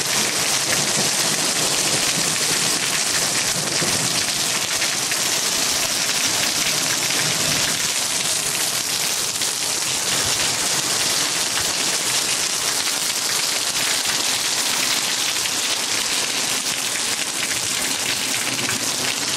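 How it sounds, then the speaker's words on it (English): Heavy rain pours down in a steady, dense, loud hiss for the whole stretch, with no distinct thunderclap standing out and no voices. "But yeah, thunder and lightning."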